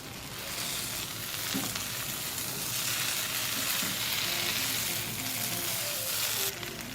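Aviyal vegetables sizzle steadily in a covered pan on a stove, a dense, continuous frying hiss that holds at an even level throughout with no talk.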